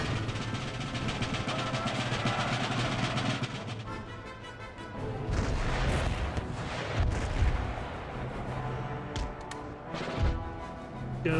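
Cannon and artillery fire in the Empire Total War strategy game: a dense, continuous barrage of booms and crashes with several louder blasts standing out, loud and sustained across the whole stretch.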